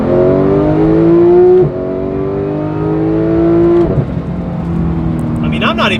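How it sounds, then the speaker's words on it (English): A Porsche 911 GT3 sports car engine revs loud and close, its pitch climbing steadily and dropping at each of three gear changes as it pulls hard. "I'm not even revving that out all the way, and that just sounds unbelievable"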